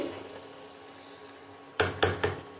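A spoon knocks against a pan three times in quick succession while chicken kasha is stir-fried, the sharp clacks cutting through a quiet, faintly hissing kitchen background.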